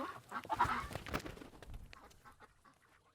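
Ducks on an organic farm quack and honk in a busy cluster of calls up close, thinning out and fading toward quieter sporadic sounds by the end.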